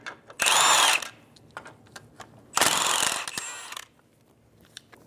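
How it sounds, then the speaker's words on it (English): A power tool with a 17mm socket spins off the ball joint nuts and bolt on a 2007-2011 Toyota Camry front suspension, giving two loud, close whirring bursts of about half a second and one second, with ratcheting clicks and clanks between them. "Using a 17mm socket, we're going to remove the two nuts and one bolt out of the ball joint."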